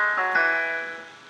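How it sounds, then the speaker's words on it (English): Acoustic ballad piano preset in Studio One Presence, a short sustained chord with a second soft attack just after, ringing out and slowly fading with no talking. "I decided to test out what this acoustic ballad sound like."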